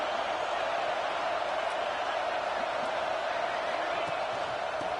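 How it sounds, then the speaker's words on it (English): A stadium crowd at a Dallas Cowboys football game roars in a dense, continuous wash of cheering noise, loud and unbroken throughout. "this crowd is fired up. Listen to this noise here."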